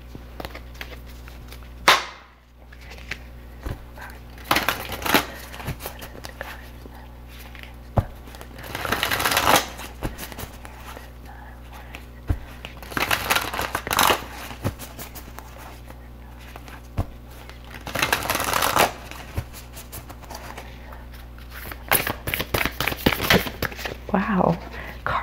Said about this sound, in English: let me go ahead and pull a goddess guidance card